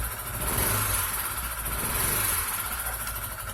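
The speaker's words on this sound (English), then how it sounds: "that ticking noise is probably coming from the lifters because this car has hydraulic lifters" A car engine with hydraulic lifters runs steadily up close with a fast, light lifter ticking riding over its hum, constant throughout.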